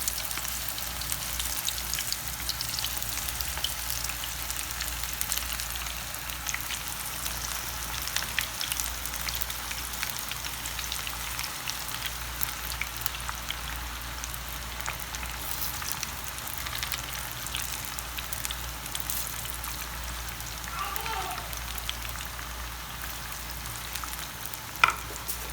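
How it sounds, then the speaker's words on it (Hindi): Mixed vegetable pakora batter fries in hot oil, a steady, fairly quiet crackling hiss that runs evenly throughout, soft like light rain, with a faint knock near the end. "ऑयल हमारा गर्म हो चुका है, तो चलिए अब हम इनको फ्राई करना स्टार्ट करते हैं।"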